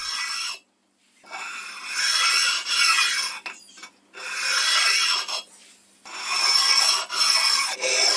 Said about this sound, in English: I'm using a bench stone to abrade them smooth